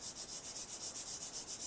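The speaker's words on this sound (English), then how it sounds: "Now begins the painstaking hand sanding with little pieces of sandpaper of different grains like this." Rapid, steady strokes of small pieces of sandpaper rubbed by hand over a carved sword replica, a regular back-and-forth scratching rhythm heard up close with no talk.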